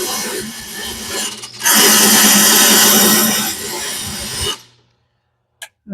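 A drill bit is ground sharp on a power sharpener in a workshop, a loud steady grinding whine running for several seconds, swelling midway, then cutting off abruptly into near silence with a brief knock afterward.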